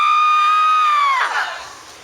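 Concert audience screaming together on a count, one loud sustained unified shriek that holds for about a second, then breaks into scattered cheering that fades.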